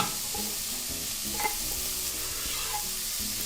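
Garlic and onion fry in olive oil in a pan, giving a steady, close sizzle with faint stirring scrapes throughout and no talking.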